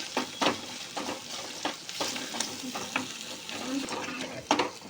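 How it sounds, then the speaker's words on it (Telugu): Chicken liver pieces fry with turmeric in a pan for a liver curry, giving a soft sizzle under repeated clattering stirs of a spoon against the pan. The sounds are close and uneven. "కార్జం ముక్కలు వేయాలి బాగా ఫ్రై చేసుకోవాలి"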